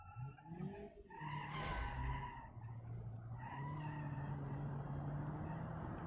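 Car tires squeal in long skidding screeches while drifting in BeamNG.drive, two loud rising squeals over a droning engine, the second sustained to the end.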